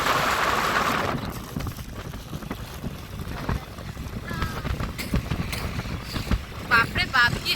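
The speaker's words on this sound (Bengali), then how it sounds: "বাপরে বাপ, কি হাওয়া, পুরো ফোনটাকে নাড়িয়ে দিচ্ছে।" Strong wind buffets a phone held on a car roof during a ride, a loud rushing rumble at first that eases into gusty noise, with people talking throughout.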